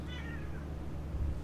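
A cat in the video game Lethal Company gives a single short meow at the start, followed by a quiet low background hum.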